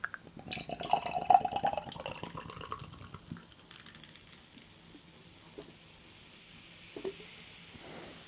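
Alcohol-free Scottish lager is poured into a glass, a gurgling splash at first that settles into soft fizzing and crackling foam, with a few faint clinks, all quiet and close.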